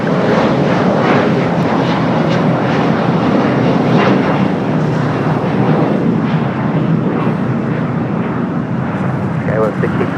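An airliner taking off from the south side of LAX airport, a broad, steady jet roar that fills the whole stretch at high volume and fades slightly near the end, with faint radio voices beneath.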